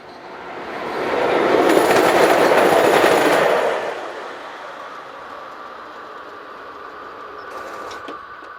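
Three Slovak class 183 locomotives roll downhill on the Tatra mountain route after banking westbound trains. The noise swells to a loud, squealing rush of wheels, then fades to a distant hum.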